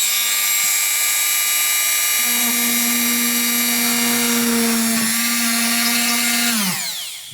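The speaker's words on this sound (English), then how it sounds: "Just got a Dremel kicking around." A Dremel rotary tool drills a hole through the housing of a 3D LED moon lamp, giving a loud, close, steady high whine that shifts pitch partway through and winds down at the end, with no talk.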